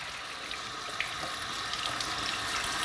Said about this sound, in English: rinse them under cold water.